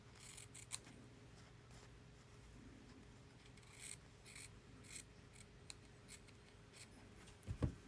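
Scissors snip faintly in quick, repeated cuts, a steady series of close, soft crisp bursts against a quiet background, with no one talking.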